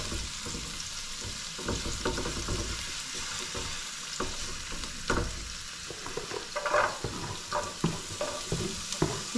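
Garlic sautés in hot oil in a pan, a close, steady sizzle broken by the scrape and clatter of stirring, with no voices.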